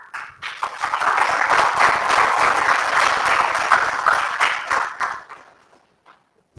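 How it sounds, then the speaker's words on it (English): Warm audience applause for panelists at an East Africa health expo plenary session, a dense steady wash of many hands clapping for about five seconds before fading out to near silence. "I would like us to give a very warm clap to our panelists"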